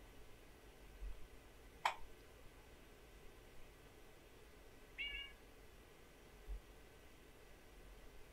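A cat in the video game Neko Odyssey gives two short meows, faint and a few seconds apart, over a quiet background hiss.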